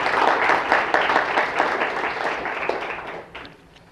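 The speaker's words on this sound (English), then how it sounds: "Feel free to clap." Listeners at an arts center applaud after a poetry reading, a warm burst of clapping that holds for a few seconds and then fades away.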